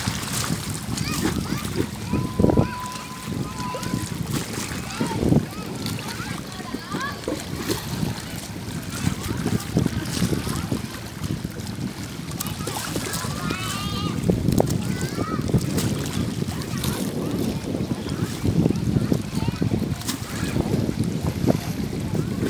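Boats travelling one after another along a waterway, a steady rushing wash of engines and splashing water with wind buffeting the microphone, continuous throughout while people talk in the background.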